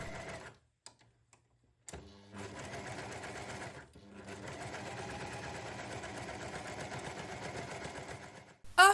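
A serger stitches fabric for a handmade cosplay shoe sole. After a brief start-stop, the motor whirs in a loud, steady run that continues unbroken to the end.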